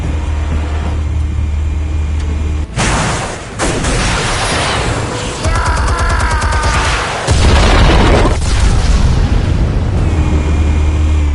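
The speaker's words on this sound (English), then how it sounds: "Explosives armed. Fire when ready." Explosives detonating in Batman: The Telltale Series, a couple of heavy booming blasts with rumbling debris and crackling aftermath, loud and close, separated by a brief quieter stretch.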